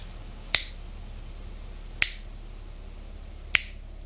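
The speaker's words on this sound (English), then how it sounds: "now anyway I'm going to do 3 claps" Three sharp, isolated hand claps spaced about a second and a half apart, used as a sync marker during a presentation recording, each crisp and close against a quiet room.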